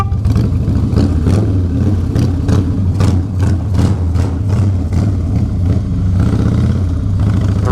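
Three motorbikes pass through a narrow one-way tunnel, their engines roaring loud and close with a reverberant, pulsing drone and repeated throttle surges throughout, no talking.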